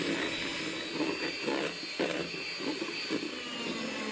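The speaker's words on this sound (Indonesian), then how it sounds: "naikkan kecepatan mixer, mix kecepatan tinggi hingga soft peak" An electric mixer whips egg whites and sugar at high speed for a Japanese cheesecake, a loud continuous whirring drone with faint rhythmic pulses as the beaters move through the bowl.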